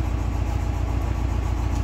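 A truck engine idles and rumbles steadily close by at a ranch, a low, even mechanical drone with a regular throb that holds without a break.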